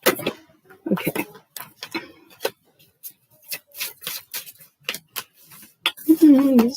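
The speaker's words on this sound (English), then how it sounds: "These feel really nice to shuffle." A new deck of flexible oracle cards is shuffled by hand, giving close, irregular bursts of papery flicks and rubbing riffles, with a brief murmur of voice near the end.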